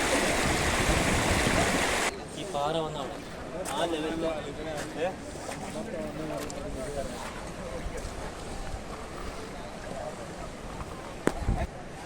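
Loud rushing water of a flooded stream, swollen after a landslide in Wayanad, roars for the first two seconds, then continues as a steady wash beneath someone speaking close to the microphone.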